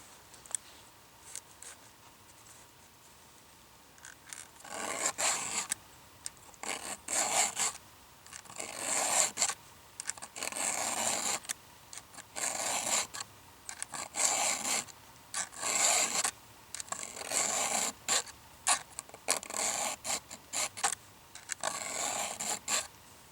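A hand file sharpens a chainsaw chain out in the woods, with repeated rasping strokes in short bursts separated by brief pauses, close and fairly quiet.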